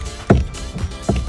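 A worn steering rack on a Nissan 350Z, its teeth skipping with a few dull clunks, three separate knocks spaced unevenly, close and fairly loud.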